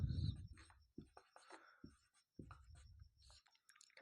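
A pen scratches out a definition on paper or board during a chemistry lesson, in short intermittent strokes with pauses between them, quiet and close.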